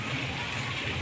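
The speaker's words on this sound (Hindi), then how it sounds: "इतनी तेज़ बारिश हो रही है। हमारी गाड़ी पे कैसे बारिश गिर रही है" Heavy rain pours onto a car, a dense, steady hiss of drops drumming on the surface throughout, close and fairly quiet, with a low rumble underneath.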